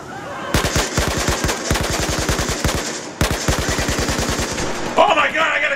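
Automatic gunfire in Battlefield 4 on the Paracel Storm map: two long, rapid bursts of machine-gun shots, loud and close, the first running about two seconds and the second slightly shorter, then a brief noisy tail.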